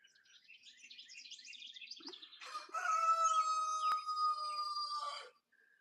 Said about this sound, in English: He's over here just crowing his little heart out.